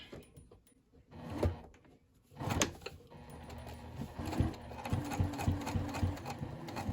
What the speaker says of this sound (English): Now I'm just going to top stitch all the way around here, not across the top